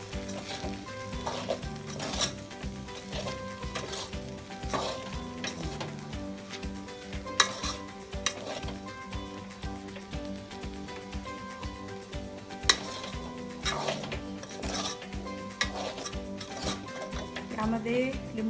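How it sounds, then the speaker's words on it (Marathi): Poha (flattened rice) sizzles as it is stirred in a pan, with frequent spoon scrapes and metallic clinks against the cookware, over a continuous musical backing. "आता हे चांगलं परतून घ्या."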